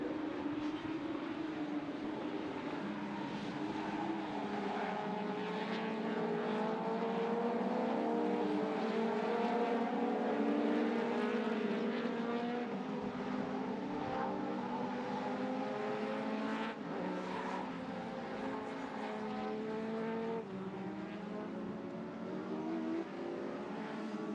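Race cars at an ICCR circuit race climb a hill together, engines droning in a steady layered roar with shifting pitches as several cars pass close and loud throughout, with no talk.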